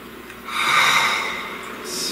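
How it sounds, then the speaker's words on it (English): A single slow, deep inhalation through the nose, close and breathy, rising over about a second and then easing off, with no talking. "Please take a nice deep breath."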